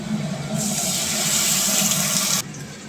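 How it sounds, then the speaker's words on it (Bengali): Water runs from a tap into a mixer grinder jar that still holds a tomato, coriander, cumin and chilli spice paste, a steady close splashing gush that swells after a moment and then stops abruptly, with no voices. "মিক্সির জারটা ধুয়ে একটু জল দিয়ে দেবো যাতে মশলাটা পুড়ে না যায়"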